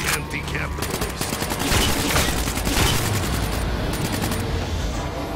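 Rapid AK rifle fire in a zombie shooting video game, a dense, loud sustained burst of automatic shots running throughout with a voice talking faintly underneath.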